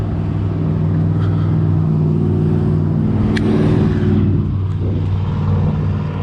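A car passes close by on the road, overtaking a Lectric XP electric bike: a loud, steady engine rumble that swells slightly as it goes by, with continuous road noise throughout.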